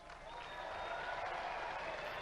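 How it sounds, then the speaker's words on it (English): Applause from a studio audience at a Robot Wars series 2 heat, steady and sustained, with a faint voice underneath. "give them a round of applause"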